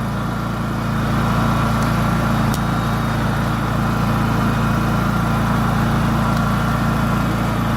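Kraft & Dele KD 187 generator running under load, a steady close droning engine hum with a constant low-pitched thrum, unbroken and alone throughout.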